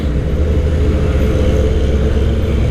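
A truck rumbles past on the road, a steady loud low engine drone filling the whole moment with no voices over it.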